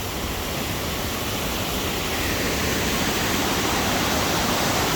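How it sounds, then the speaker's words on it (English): Rushing water from a waterfall at Cascada Velo de Novia in Chiapas, Mexico, fills the air with a dense, steady, loud roar and hiss that never lets up. "I'm here at the second waterfall actually, which is called the Whispers Waterfall."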